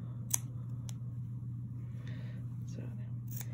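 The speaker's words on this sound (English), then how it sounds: "Now you want to cut out the hole, the same size as our original hole." Fabric shears snipping a hole in fabric for visible mending, a few faint, close, sharp cuts against a steady low hum, with a soft voice murmuring nearby.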